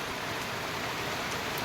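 Steady rain falls during a long spell of continuous monsoon downpour, making an even, soft wash of noise with no break.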